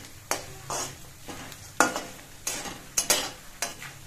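Snack ingredients frying in a little oil in a pan for a tea-time snack, with repeated scraping stirs in short bursts over a soft, low sizzle, close and with no one speaking.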